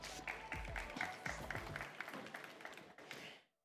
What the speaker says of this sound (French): On peut l'applaudir, ça fait toujours plaisir.